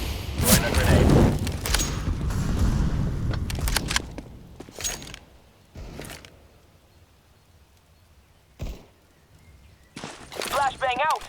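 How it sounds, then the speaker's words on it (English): A grenade blast in Counter-Strike: Global Offensive, with a loud booming burst near the start followed by footsteps, gunfire and mechanical game sounds, and voices talking over much of it. "Throwing a grenade."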